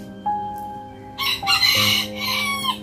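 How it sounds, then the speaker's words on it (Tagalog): A pet chicken clucks and then crows close by, sharp loud calls layered over a steady background hum. "Hi guys, this is my chicken."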